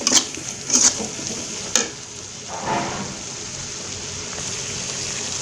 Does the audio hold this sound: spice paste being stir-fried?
yes